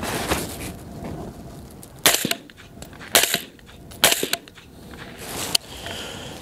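Rifle fitted with a Gemtech suppressed bolt carrier and G5-T suppressor firing outdoors toward a berm: four or five muffled, sharp cracks spaced about a second apart, close and moderately loud, with quiet ambience between shots.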